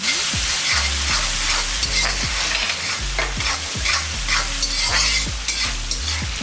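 Tomato and onion sauté in a pan with a loud, constant sizzle while a spatula scrapes in quick repeated strokes close up; nobody talks.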